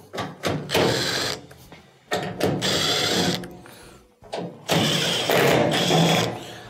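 A tool removes the quarter-inch screws holding a washing machine's top panel, sounding in close, loud bursts of ratcheting and whirring broken by short pauses and clicks.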